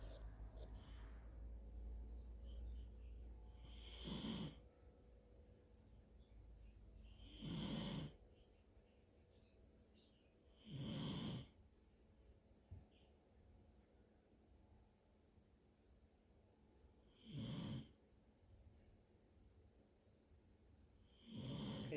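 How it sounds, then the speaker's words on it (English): A dog snores in slow, regular bursts about every three to four seconds, soft and close, over a quiet steady background hum. "if you hear snoring in the background of my videos, that's him"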